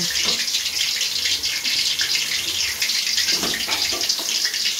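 Water streams loudly and steadily into a cooking pan holding boiled peas for ghugni, a close, continuous splashing pour without pause.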